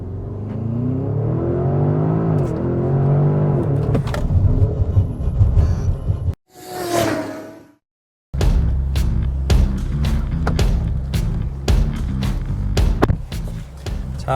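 Porsche Cayenne Turbo GT launching hard under launch control, a loud, close engine roar climbing through the revs in sustained bursts, broken by a short pause before the surge resumes.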